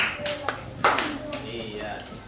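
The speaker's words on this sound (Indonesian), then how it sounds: "Tepuk tangan dulu sekali." A classroom of students claps hands together once on a teacher's cue, a short burst of claps mixed with talking voices in a room.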